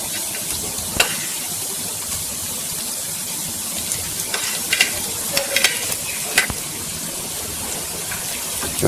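Chopped tomatoes hitting softened onions in a hot karahi for a capsicum chicken dish, followed by steady sizzling and spoon scrapes. Several sharp clatters of stirring rise over a continuous frying hiss, with no talking.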